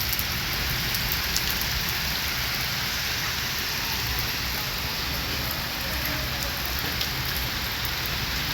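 Steady, dense downpour of heavy rain pattering on surfaces, a continuous hiss with no pauses and no voices.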